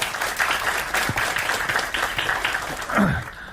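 An audience at a university student forum applauds in a continuous, dense burst of many hands clapping, fairly loud and steady, with a brief swell near the end and no talking over it.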